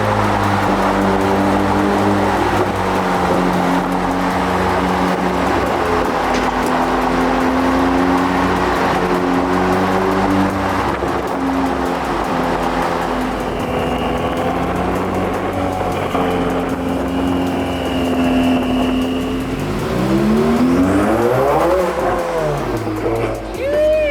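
A modded Ferrari F8 Spider's aftermarket exhaust drones loudly at a steady high idle, then revs up and down in quick sweeping bursts, close and powerful.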